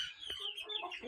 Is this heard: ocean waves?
no